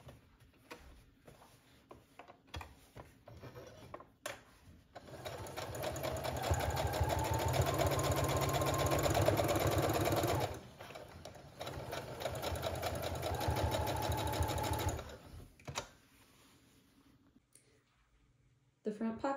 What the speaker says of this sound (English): I'm gonna baste the bottom edge of the pocket to the front piece